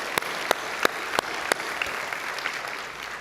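A church congregation claps during a sermon, starting with a few loud, evenly spaced claps that thicken into continuous, moderately close applause with no voices over it.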